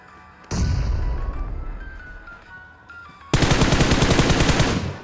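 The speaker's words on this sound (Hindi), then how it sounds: "धमाके देख रहे हो, नेड यहाँ पे जो है नेड कर देते हैं चारों तरफ" Heavy gunfire and grenade blasts in PUBG Mobile, a sharp burst at the start then a dense, loud stretch of rapid fire near the end.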